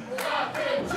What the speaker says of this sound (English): They're saying clap them cheeks